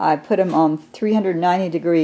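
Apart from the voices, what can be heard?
No everyday noise stands out behind the speech.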